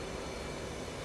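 Steady, even roar of an F/A-18C Hornet's jet engine in the DCS World flight simulator, a dense continuous broadband drone with no breaks, filling the whole moment at moderate level.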